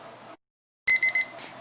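A kitchen timer goes off at the end of 15 minutes of pressure canning milk, sounding a quick run of three high electronic beeps after a brief silence, with faint room noise around them.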